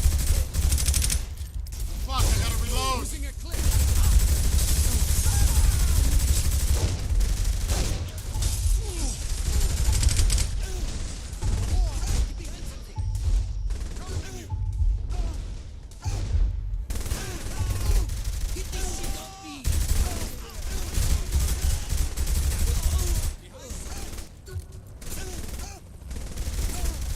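Continuous gunfire in a shooter video game, with dense bursts of rapid shots and mechanical clatter filling the whole stretch at steady loudness, while a player speaks briefly over the din.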